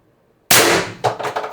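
An IntruBuster Gen 2 air carbine fires an 11-gram Sumo XL pellet at 1,100 PSI: one sharp, loud crack with a quick decay, followed by a few fainter rattling knocks.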